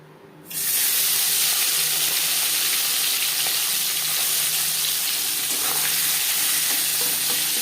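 Hot refined oil frying loudly in a pan for a Bengali tangra fish curry, a strong steady sizzle bursting in after a short quiet start and continuing alone.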